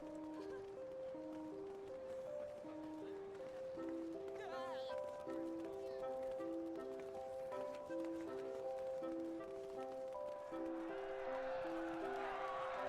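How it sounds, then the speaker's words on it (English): Crowd of player characters gathering before a stage in Final Fantasy XIV, faint overlapping chatter and movement under a looping melodic game tune. "I hear a crowd gathering"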